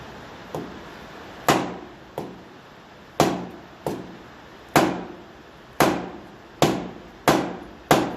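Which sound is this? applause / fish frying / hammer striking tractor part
hammer striking tractor part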